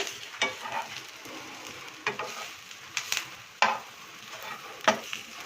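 Prawns fry in a pan with curry leaves, a soft continuous sizzle broken by several sharp scraping stirs of a utensil at irregular intervals, close and fairly quiet.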